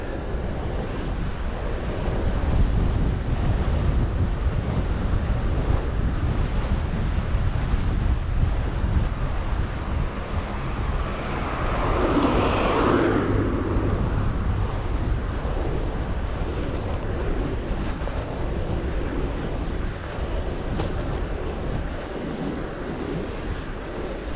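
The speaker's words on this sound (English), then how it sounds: "Certainly not as strong a wind as it has been though." Wind gusting outdoors during a bike ride around Bournemouth, a steady rushing roar of wind on the microphone that swells briefly midway and stays loud throughout.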